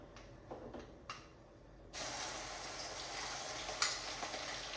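A few light taps, then a sudden loud sizzle as garlic drops into hot oil with popped mustard seeds, hissing steadily afterward.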